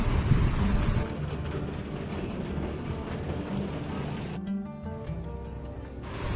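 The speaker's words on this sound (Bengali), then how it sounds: "এই যে টয় ট্রেন চলে আসছে" A toy train rolls in to stop at Elephanta, its steady rumble and clatter held at moderate distance against open outdoor ambience.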